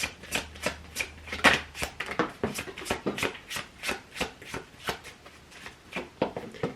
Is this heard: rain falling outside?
no